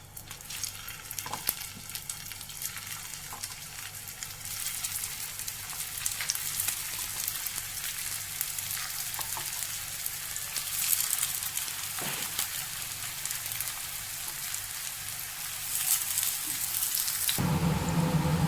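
Flattened-rice (poha) snack patties fry in oil in a pan, giving a steady, close, continuous sizzle with faint crackles that grows slightly louder near the end. No one speaks.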